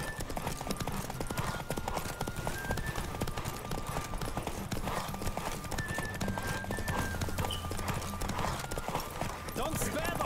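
Steady clip-clop of hoofbeats from a galloping horse in The Witcher 3, with a whinny, under continuous game music and background effects.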